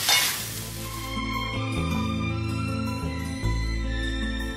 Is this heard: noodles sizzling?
yes